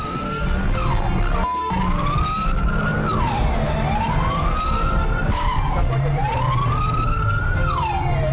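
A police car siren wails in rising and falling sweeps during a high-speed car chase, loud and close over traffic and engine noise, with a brief skid-like break early on.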